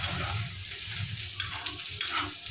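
Cauliflower frying in a pan at home, a steady close sizzle with light stirring scrapes running throughout, no voices.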